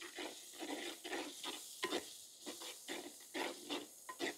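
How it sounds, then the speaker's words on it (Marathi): A spoon stirs ground spices such as coriander powder, chicken masala, garam masala and cumin into frying onions in a pan, with rhythmic scraping strokes over a steady sizzle, close and fairly quiet, with no talking. "मसाले व्यवस्थित आपण मिक्स करून घेऊ।"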